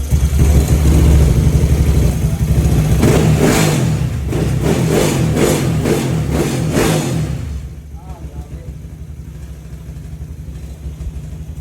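A Yamaha Aerox scooter engine, downsized from 215cc to 183cc, revs hard in repeated loud bursts, then drops back to a lower, steady idle.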